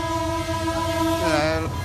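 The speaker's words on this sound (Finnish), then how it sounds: "Mikä se juna siinä on?" Train passing in Sri Lanka, heard from a tuk-tuk: a loud, sustained horn sounds over constant rumbling road noise, with the pitch wavering briefly near the end.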